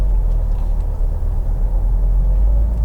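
A manual car's engine hums low and steady as the car pulls away from a stop, a close rumbling drone with faint interior noise and no speech.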